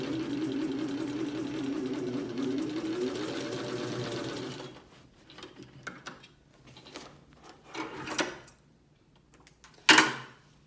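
A Singer 15-91 direct-drive domestic sewing machine stitching through leather over denim hums steadily at close range for several seconds, then stops, followed by a few soft mechanical clicks and handling noises.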